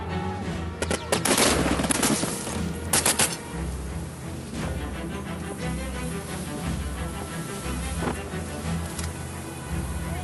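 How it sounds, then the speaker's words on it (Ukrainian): Soldiers on boats return fire at sea during fighting near offshore drilling platforms: dense, sustained automatic gunfire with loud bursts early on, then steady rattling shots over a constant engine rumble. "Наші бійці відкривають вогонь у відповідь з усього наявного озброєння."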